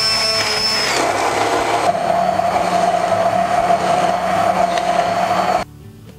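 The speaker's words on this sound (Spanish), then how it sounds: "ahora lo trituraremos" A blender pureeing vegan salsa brava, a loud continuous whirring motor with a steady high whine that runs for several seconds, then drops sharply as it switches off.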